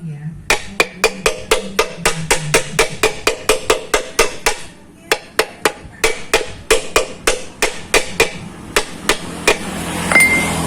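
A hammer drives a tightly fitting part into a Honda GX160 small engine: a rapid, steady series of sharp metallic strikes, roughly two dozen in all, loud and close with a short pause midway.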